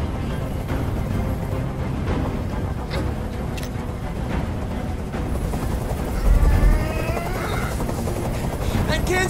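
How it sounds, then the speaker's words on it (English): A helicopter's steady rotor thrum drones loudly throughout, with a heavier low rumble swelling near the end; a voice speaks over it. "I can't stand that noise anymore. Tell that helicopter to get out of here."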